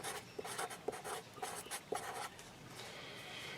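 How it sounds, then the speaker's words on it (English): A pen scratches quick, faint strokes on paper, jotting a setting beside a playing-card stack used to gauge clay thickness, with a light rhythmic scribbling close by and a softer steady hiss near the end. "I'm going to write down here, this is the setting."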